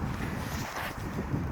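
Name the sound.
wind blowing at campsite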